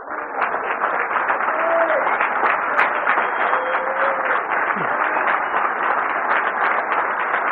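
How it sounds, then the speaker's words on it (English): An audience at the 2019 NILOA clinic in Baltimore, Maryland applauds steadily, a dense continuous round of clapping from a crowd indoors, with a few faint vocal sounds mixed in. "give him the proper round of applause"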